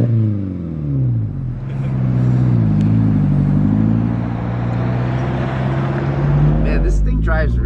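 An SR20-swapped Datsun 2000 Roadster cruises along, its engine droning and shifting pitch as it accelerates, with occupants talking over the steady motor noise inside the open car.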